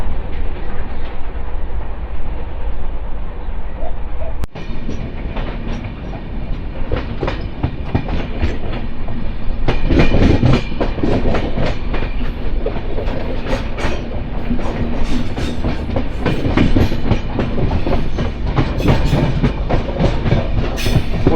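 The Mandovi Express runs on rails from Madgaon to Mumbai, a loud steady rumble with repeated clickety-clack wheel beats and rattling carriages throughout, heard from on board.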